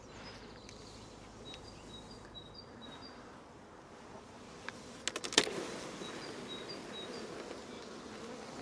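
Honey bees working the honey supers of an opened hive on a UK apiary hum in a dense, continuous drone, with a few sharper clicks and knocks of hive frames midway while the buzzing carries on.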